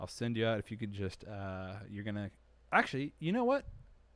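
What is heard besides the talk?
No distinct noise like a dog, phone or traffic.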